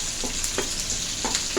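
Chicken pieces frying with masala in a pan for an Andhra-style chicken curry, giving a steady close sizzle with a few soft scraping stirs and no talk.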